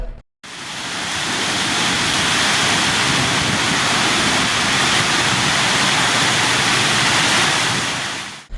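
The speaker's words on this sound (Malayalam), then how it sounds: "ശക്തമായ മഴയും കാറ്റുമാണ് പട്ടാമ്പി മേഖലയിലും അനുഭവപ്പെട്ടത്" A loud, steady roar of heavy rain mixed with rushing wind fills the whole stretch, dense and unbroken from start to finish, during a storm in Pattambi, Kerala, that brought down trees.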